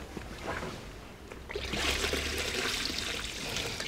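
Water pours and splashes out of the cassette tank of an RV toilet being rinsed, a soft trickle that swells into a louder gushing flow, heard close and alone.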